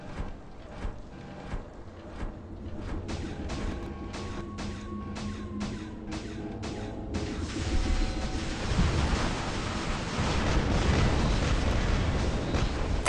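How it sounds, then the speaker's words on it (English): Weapon fire in the robot combat game War Robots, a rapid series of sharp shots and booming blasts over a dense rumbling battle din that grows heavier toward the end. "Now count the shots fired."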